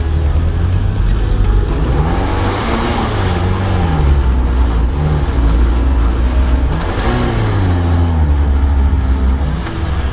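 A Renault Duster 1.6 with ESP labors through a swamp, its engine loud and near, revving up and down in repeated surges as the wheels fight for grip, with no voices over it.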